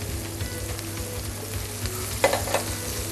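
Vegetables and mushrooms frying in a hot pan for beef noodles: a steady close sizzle with a brief burst of stirring and scraping near the end.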